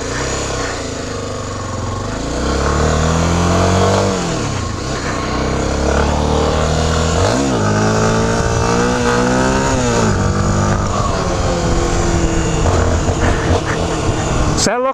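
A brand-new motorcycle engine revs repeatedly, pitch climbing and dropping in bursts over a steady running idle, loud and close.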